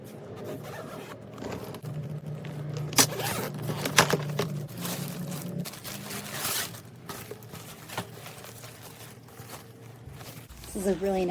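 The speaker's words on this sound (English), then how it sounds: "This is a really nice bag that zippers the whole way around the bottom." A zipper runs around the bottom of a hardshell expandable spinner suitcase, producing scratchy zipping strokes with small clicks and scrapes, fairly quiet and close.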